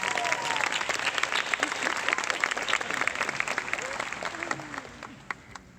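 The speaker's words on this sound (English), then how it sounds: "so why don't we give them all a round of applause." An audience applauds the parents at a scholarship event, a full round of clapping mixed with crowd voices that gradually thins and tapers off.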